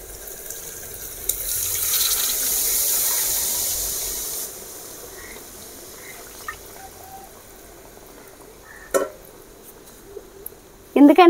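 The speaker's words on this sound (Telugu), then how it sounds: "ఇప్పుడు తగిన నీళ్లు పోస్తున్నా." Water is poured into a pot of country chicken curry (natukodi pulusu) coated in turmeric and chilli, making a steady hissing splash for a few seconds, close and fairly loud, then a quieter simmer with a few clinks afterward.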